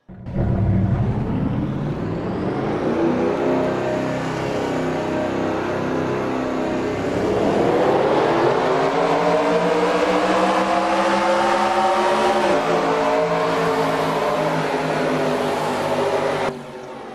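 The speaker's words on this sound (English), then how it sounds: "Drivers, start your engines!" Several NASCAR-style race car engines in a Daytona 500 racing video game start up and rev together, a loud, steady roar that swells in pitch midway and holds high before cutting off near the end.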